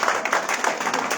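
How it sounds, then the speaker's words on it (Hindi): An audience at a tablet distribution ceremony at a management and technology institute keeps up brisk, continuous clapping, a busy close patter of many hands with no voice over it. "ताली रुकनी नहीं चाहिए।"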